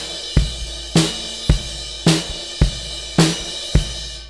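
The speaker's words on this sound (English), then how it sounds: "There is a crash that you ride on," A crash cymbal ridden by a drummer, struck about every half second in an even pulse, each close, bright wash ringing and decaying before the next hit, with a low drum thump under some strokes and no talk.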